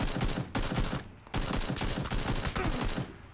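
Automatic weapons fire in PUBG, the battle royale game, comes as rapid bursts of shots, three separate volleys broken by short gaps, loud and close.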